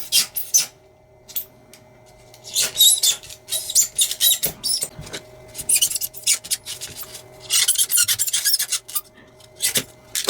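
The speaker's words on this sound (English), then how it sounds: "So let's start carving the tall piece first." Foam being carved for a diorama brick wall, with repeated scratchy rasping and scraping strokes in irregular bursts, close and fairly loud, and short pauses between cuts.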